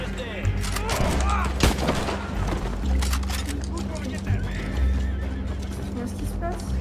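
A horse neighs and whinnies with hoof clip-clops in the video game Red Dead Redemption 2, amid scattered gunshots during a gang fight. Someone talks throughout.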